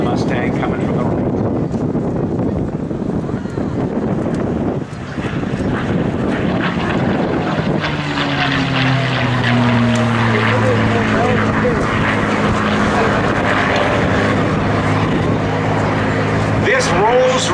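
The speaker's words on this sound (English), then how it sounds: "Vlado Lenoch from Chicago, Illinois in the Mustang coming from the right." A P-51 Mustang with a Rolls-Royce Merlin engine passes at a military open-house air show, its loud droning roar rising and shifting in pitch over wind noise while an announcer talks.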